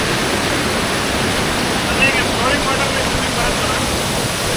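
Vate Halla waterfall near Siddapura roars as a loud, unbroken wash of rushing water close by, filling the whole clip with steady broadband noise.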